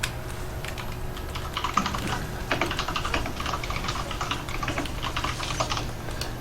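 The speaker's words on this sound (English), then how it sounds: "there's that keyboard" Computer keyboard typing during a live esports match broadcast, a quick irregular patter of close key clicks over a low steady hum, continuing throughout with no one talking.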